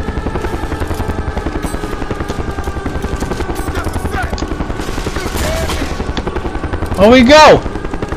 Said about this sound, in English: Take down the chopper!